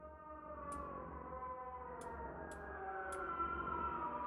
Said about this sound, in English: It's like a siren.